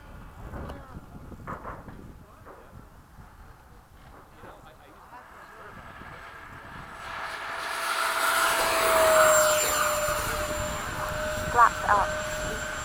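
Freewing 80mm MiG-21 RC jet taking off at an airfield, its ducted-fan whine swelling from faint to loud over several seconds, with people talking in the quieter stretch beforehand.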